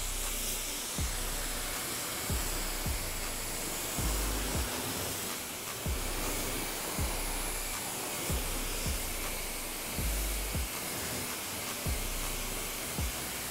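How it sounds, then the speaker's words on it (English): Water sprays onto the front end of a very dirty car at a car wash as a steady broad hiss, broken by regular low thumps every second or so. "we're gonna start laying down some water here on the front end of this"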